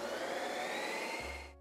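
An ice cream machine spins plant-based ice cream, giving a steady loud motorised whirr that winds down abruptly at the end.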